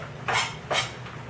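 Two short clattering bursts as bacon pieces go into a pot of simmering butternut squash and apple soup, metal and utensil knocks close by over a low kitchen hum.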